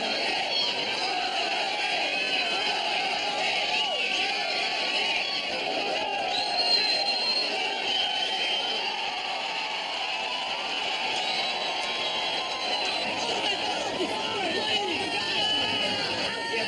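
A dense street crowd fills the scene with a steady, loud hubbub of overlapping voices and occasional shouts and whoops, continuous throughout, with no pauses.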